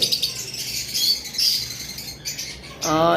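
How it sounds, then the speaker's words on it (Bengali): Small pet birds, lutino red-head opaline birds kept on a bird farm, give loud, shrill squawks and chirps close by, in bursts with a brief pause before a final harsh call. "আর এইখানে লুটিনো রেড হেড অপালাইনের সাথে লুটিনো পিস পেস রয়েছে"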